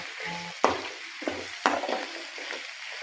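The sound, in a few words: stirring green chilli tempering in oil in a pan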